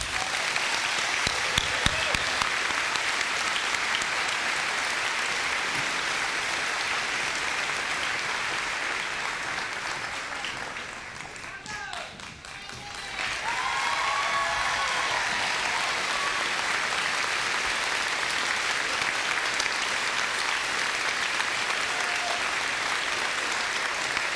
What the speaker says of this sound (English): let's get a round of applause for our graduates